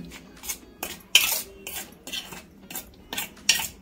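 A fish marinade for Malvani-style surmai fry being mixed in a pan: about eight rhythmic, close scraping and clattering strokes of a utensil against metal, with no talk.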